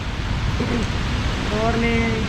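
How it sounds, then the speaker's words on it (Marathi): Steady rain falls in a constant, dense hiss during a morning bicycle ride near Gadeshwar Dam, with faint tonal sounds drifting over the downpour. "पाऊस पण थोडाच वाढलेला आहे"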